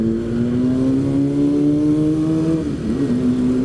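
A Kawasaki Ninja motorcycle revs close behind a car on a city road by the Tugu Kujang monument in Bogor, its steady loud engine tone holding level then dipping and rising again toward the end, with no talk over it.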